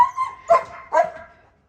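A dog near its shaded dog house on a small farm in Ghana gives a few short close barks and whimpering yips, two sharper barks standing out over less than two seconds.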